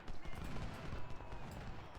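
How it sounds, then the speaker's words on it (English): Massed cannons fire canister shot at point-blank range in the Civil War strategy game Ultimate General, a dense, continuous rumble of overlapping booms and crackling volleys with a low roar underneath and faint talk in the background. "I think having this many cannons firing canister at basically point blank range is going to just delete the enemy."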